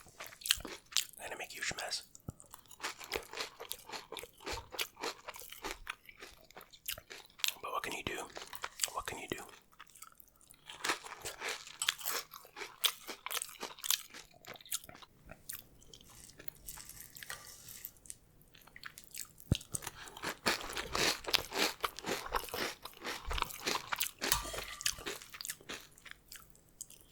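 Crunchy eating of classic dry cereal up close, with dense repeated bites and chewing crunches throughout, mixed with soft whispering and a few wet mouth sounds.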